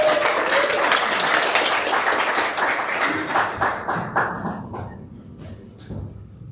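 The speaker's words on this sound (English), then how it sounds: "Give him a round of applause." Congregation at a Sunday church service giving a round of applause, full and steady at first, then thinning into a few scattered, separate claps before dying away.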